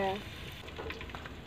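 Fenugreek and mustard seeds splutter and crackle in hot cooking oil for a village meal, a faint steady sizzle with small pops and a brief tonal blip at the start.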